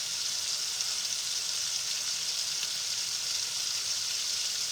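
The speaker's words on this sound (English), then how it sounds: "And so we want to sear them for about 3 minutes on each side." Pork medallions sear in a hot pan with a steady, soft hiss of sizzling fat that carries evenly throughout, fairly quiet and with no voices.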